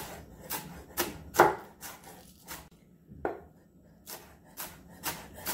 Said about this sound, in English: Same thing with the scallion, you're going to slice it up.